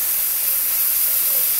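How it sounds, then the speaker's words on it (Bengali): Peas go into a hot pan of cooking vegetable dal. The pan gives a steady, close, bright sizzling hiss that holds evenly throughout, with no talking. "এবার আমি আগে ডালটা মটরশুঁটিটা দিয়ে নিই।"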